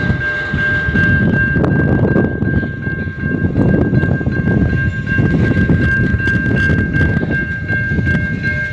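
A train rolls past at night in Biggar, Saskatchewan, its steady loud rumble and clatter filling the whole stretch, with a sustained tonal whine running over the top.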